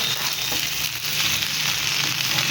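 Andhra-style chicken fry sizzles in a pan, a loud, steady, close frying crackle with no voices.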